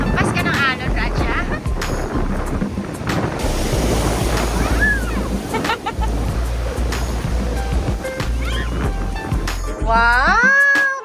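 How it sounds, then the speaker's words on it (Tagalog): Ocean waves washing onto a shore in Mindanao, a continuous loud roar of surf with heavy wind buffeting the microphone, voices and children's chatter audible over the water. "Hampas ka ng alon, Raja."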